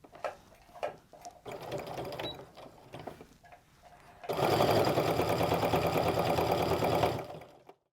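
Sewing machine stitching around the seam allowance of a crossbody bag, starting with a few light taps and short runs, then a loud, steady, rapid hum of stitching for several seconds before stopping.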